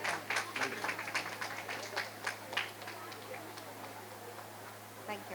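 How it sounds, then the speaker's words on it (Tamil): Audience clapping for volunteers at a school orchestra support and student felicitation event, scattered claps over roomy background murmur that thins out toward the end. "அந்த வாலண்டியர்ஸ்க்குன்னு ஒரு பெரிய கைத்தட்டல் வேணும்"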